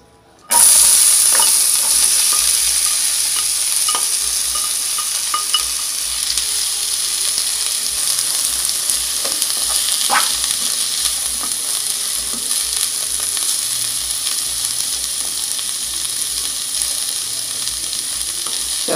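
Onion sizzling loudly in olive oil in a pan while being stirred, a steady bright frying hiss running throughout with occasional scraping of the spoon, close and continuous with no talking.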